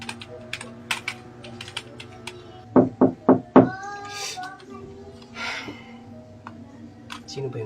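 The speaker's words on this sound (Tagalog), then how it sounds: "Sino ba yung kumakatok?" Four sharp knocks on a door in a mystery short film's apartment scene, loud and close in quick succession, with other tapping and muffled household sounds around them.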